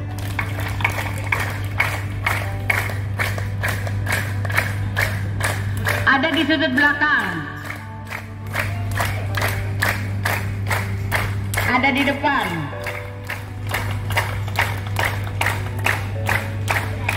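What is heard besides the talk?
audience clapping hands in health-clap exercise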